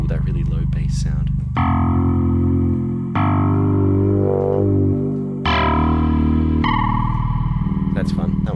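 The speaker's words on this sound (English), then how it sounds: "it's a pretty cheesy 80s kind of sound that comes up every now and again from the DX7" A Yamaha DX7 synthesizer plays a low, cheesy 80s bass patch in sustained held notes that change pitch every second or two, thick and buzzy with a distorted, chorused edge, loud and with no voices.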